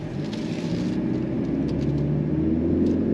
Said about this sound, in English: The sound you are getting is 4-cylinder turbo, and there is some pumped-in sound on top of that.